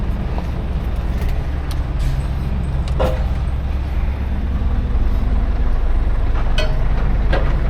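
A car drives past at a garden center or building site, with a steady engine and road rumble close by and some scattered clanks around it.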